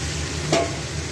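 Marinated chicken coated in black pepper, garlic-ginger paste and salt sizzles steadily in a hot pan with oil, and a single brief stir scrapes through it midway, close and continuous.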